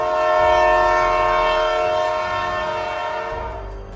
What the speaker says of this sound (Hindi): तभी ये ट्रेन जाने लग जाती है